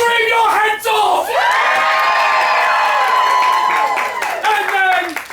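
Theatre audience at a Christmas special screaming and cheering, a loud sustained wall of shrieks, whoops and yells with some clapping.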